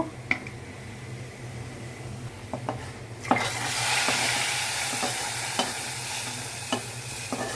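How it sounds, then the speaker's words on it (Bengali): Browned sizzling tempering poured over sour dal brings a sudden loud burst of hissing sizzle after a few sharp utensil taps, then a steady crackling fry punctuated by occasional clinks, with no talk. "বাদামি করে বেজে নিয়েছি এখন টক ডালের উপরে ঢেলে দিব"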